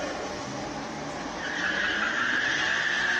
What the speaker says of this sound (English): Franco Austin just left with the Volvo C30.